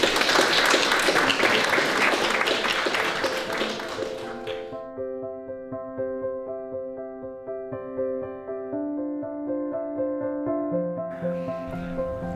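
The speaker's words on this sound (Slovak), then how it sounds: "Tak, to chce potlesk." An audience applauds after a Bethlehem light candle is lit during a Christian gathering. Dense clapping lasts several seconds and then stops abruptly, giving way to soft sustained musical tones.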